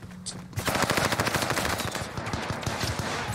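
Rapid shotgun fire in the Call of Duty Warzone video game on Rebirth Island: a dense, continuous burst of loud repeated blasts rings out after a brief quiet start.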